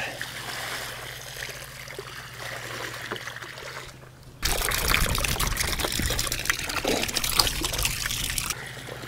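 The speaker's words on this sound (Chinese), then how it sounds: "还是得给它浇水，多浇水。" Water pours steadily onto the soil around newly transplanted grape vines, a close, continuous splashing stream that starts abruptly after a quieter lead-in.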